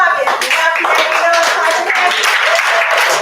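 A group of women claps hands together in quick, steady rhythm while singing a song, fairly loud and close, with voices mixed in.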